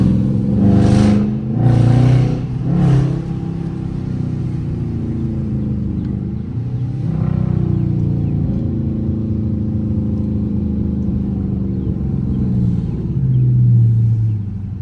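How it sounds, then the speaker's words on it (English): A Dodge Charger R/T engine rumbles loudly up close with windows down, revving in several bursts early on, then droning steadily as the car drives through traffic with occasional throttle swells. "let me put the windows down so y'all can hear the engine real quick"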